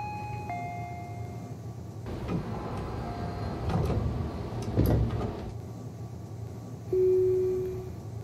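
Doors of a Tobu 60000 series commuter train closing in the BVE5 train simulator on the Tobu Noda Line: a chime tone, then a broadband rumble and clatter of the doors sliding shut, followed by a steady tone, with no talk.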